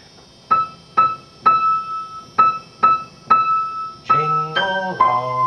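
Jingle Bells melody played high on a piano keyboard, two octaves up starting on E: a run of evenly spaced bright repeated notes, then a few fuller chord-like notes at the end, clear and close with no talking.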